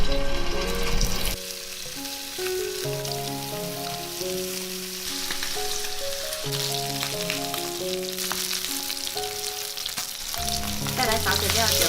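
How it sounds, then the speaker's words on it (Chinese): Duck wings pan-fry in a little oil in a flat pan, giving a steady crackling sizzle that runs throughout beneath a melodic music track. "取个平底锅，加入少许油，接着把鸭翅放下来煎。"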